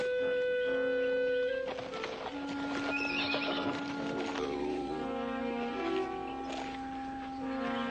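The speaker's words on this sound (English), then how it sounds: "Oh, we did tell Reese that horse was part jackass." A horse neighs loudly and at length, with clip-clop hoofbeats and other whinnies following close by.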